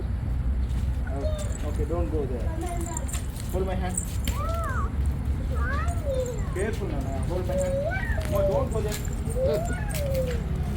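A cat meows repeatedly in rising and falling cries, close and fairly loud, while a person talks over it against steady background noise.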